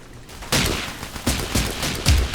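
Lee-Enfield rifle shots in a shooter video game crack out in a rapid run of sharp, loud reports, roughly four or five close bursts over a couple of seconds.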